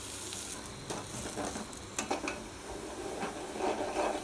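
Chopped onions frying in oil in a pan for a small-fish curry, a soft continuous sizzle with occasional scraping stir strokes, fairly quiet and close, no voices.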